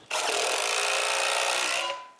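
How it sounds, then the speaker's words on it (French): Power drill driving six screws to mount a winch onto its new base, a steady loud whirring motor run of about two seconds that winds down at the end, with no talking. "Ensuite, je visse les 6 vis."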